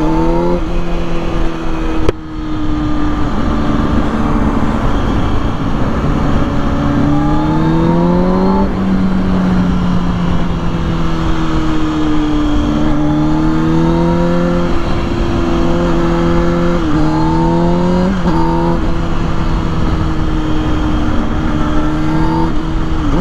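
A 2006 Kawasaki Ninja ZX-6R 636 motorcycle accelerates hard, its loud, close engine whine climbing in pitch through repeated rising sweeps, each broken by a brief drop at a gear change.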